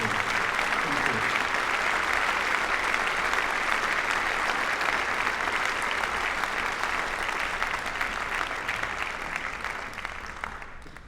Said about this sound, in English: Just have one more round of applause for these fantastic senior athletes